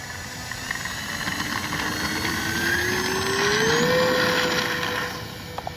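Electric motor of a Kavan Bristell B23 RC model airplane during takeoff, a steady whining drone rising in pitch as the plane climbs away, constant and moderately loud, fading near the end.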